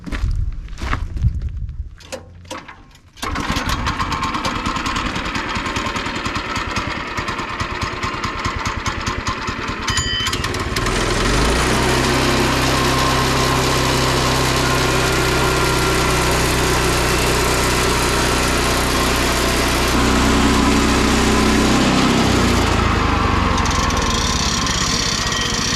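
A Woodland Mills sawmill engine starts, revs up and runs loud and steady while it cuts a log. A brief stutter comes before the start, then pitch shifts as the load changes, with no talking.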